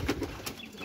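Pigeons coo in a brief, soft, low burst, fairly faint against outdoor background noise.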